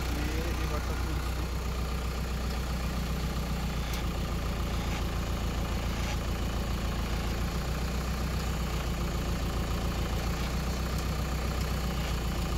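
A tractor engine runs steadily at a low, droning idle while the repaired hydraulic pump lifts, loud and continuous from nearby throughout with no clear change in pitch.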